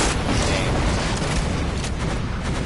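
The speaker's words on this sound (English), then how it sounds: "I can't hear you over all the explosions in this game." A dense, loud wall of rumbling booms and blasts fills the clip, like continuous explosions in a chaotic game battle.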